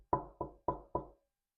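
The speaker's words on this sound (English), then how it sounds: "suddenly there came a tapping" Four crisp knocks, like tapping on a wooden chamber door, come in a quick, even rhythm, close and distinct, each ringing briefly before the next, then silence.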